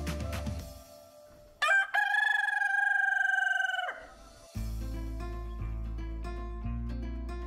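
A rooster crows once, loud and close, with a long sustained call among live poultry at the Essaouira market in Morocco, with clucking and farmyard murmur before and after.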